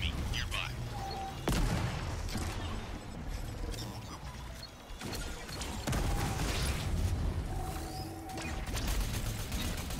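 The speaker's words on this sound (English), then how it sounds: "Nade deployed! Enemy nearby." Grenade blast and gunfire in the game Crucible, with repeated booming impacts and crackling shots over a dense, busy battle mix lasting throughout.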